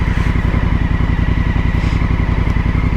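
A Honda Africa Twin motorcycle cruising on the road, its engine a loud, close, steady rapid throb with rushing wind noise, heard alone from the rider's position.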